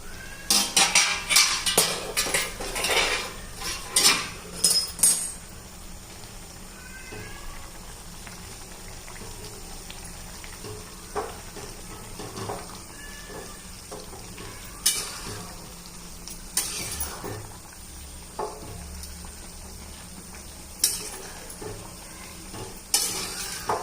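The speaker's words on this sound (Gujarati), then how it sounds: "હવે આપણે એને હલાવી દઈએ।" A spoon stirs moong dal and leafy greens cooking in a pot, with several scraping strokes at the start, then soft bubbling and occasional clinks at a close, moderate level.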